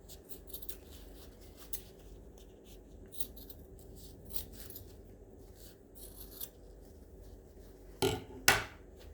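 Scissors trim the edges of a Schneider pack, a rounded cotton-and-cover-roll dressing, in faint soft snips and rustles over a quiet room, ending with two sharper, louder cuts near the end.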